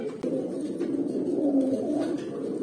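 A pigeon coos close by in a low, rolling, continuous burr that stays steady and fairly loud for the whole moment, with no talk.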